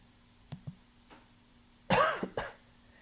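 A couple of soft throat noises, then one loud close cough followed by a smaller second one, in an otherwise quiet room.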